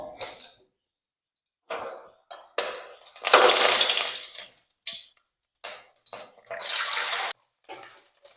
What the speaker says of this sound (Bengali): এবার কড়াইয়ের মধ্যে ডিমটা ভেজে নেব